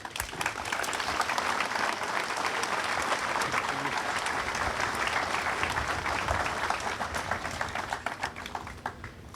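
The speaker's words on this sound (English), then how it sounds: "leave them with a great round of applause" An outdoor crowd at a Memorial Day military ceremony applauds steadily for several seconds, a dense even wash of many hands that eases slightly near the end, with faint voices mixed in.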